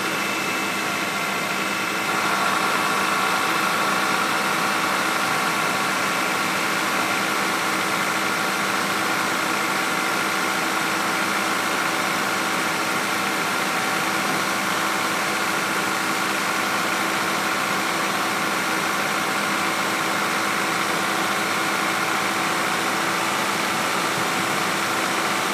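A 2003 Honda Accord with the 2.4 engine idles steadily up close, a continuous even hum with a faint mechanical whine and no talking over it.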